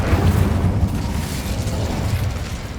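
Incendio fire spell cast in the Hogwarts Legacy video game, a loud, rumbling whoosh of flame with bursting, crackling pops that sustains for a few seconds.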